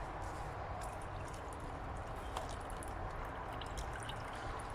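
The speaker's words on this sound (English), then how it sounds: "We're going to pour the water out." Water is poured out of two containers, producing a steady, faint splashing trickle with small drips throughout.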